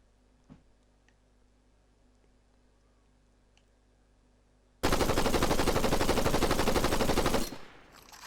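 Video-game assault rifle fire: after a quiet stretch with faint clicks, one loud, rapid automatic burst runs for nearly three seconds, then cuts off abruptly.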